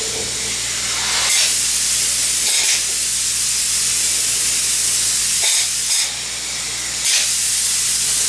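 A spray foam insulation gun hisses in several sustained bursts separated by short pauses, loud and close, with a steady low hum underneath.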